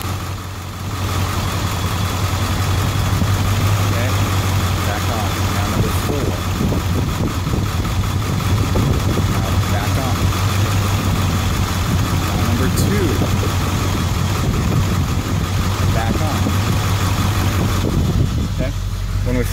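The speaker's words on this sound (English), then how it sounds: "So let me try number 6 and see if we can hear it." A Ford 7.3 Powerstroke diesel truck idles with one injector switched off, a loud steady low rumble with an uneven knocking texture running continuously under a voice.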